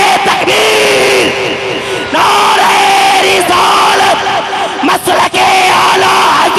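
A large crowd at a religious gathering shouts the takbir slogan in loud, forceful unison, with repeated massed yells ringing out close and full, broken by short pauses.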